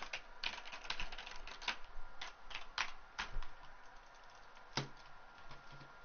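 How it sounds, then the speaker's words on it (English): Typing on a PC keyboard at a gaming setup: quick, irregular key clicks, some in short bursts and others spaced apart, fairly faint and close, with no talking. "I got my mouse pad. I got my keyboard right here."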